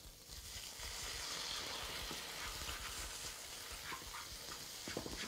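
A pan sizzles and hisses steadily after sherry is poured in to deglaze it, a broad crackling fry at moderate volume with small pops near the end.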